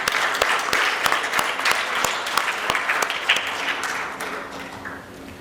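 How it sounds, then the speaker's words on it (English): Audience applause at a Rotary Club of Nagpur presidential installation ceremony, steady dense clapping from a hall crowd that continues throughout and fades slightly toward the end. "a big round of applause for Jatin and his team once again"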